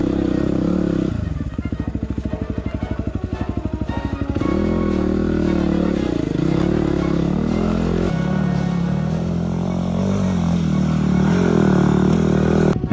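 Dirt bike engine revs and labours close by while climbing Wave Rock in the Watagans, a pulsing low exhaust note with throttle blips and surges, its rhythm rising and falling as the rider picks a line.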